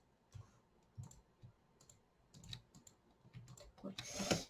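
Keys are pressed on a computer keyboard during 3D modelling work, a series of quiet, scattered clicks and taps, close by and faint, ending with a louder rustle.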